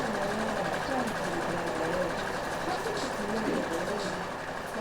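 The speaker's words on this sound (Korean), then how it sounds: "미싱 돌아가는 소리는 경쾌합니다" A sewing machine runs in a steady, even mechanical whir for a few seconds, with faint voices blending into the hum.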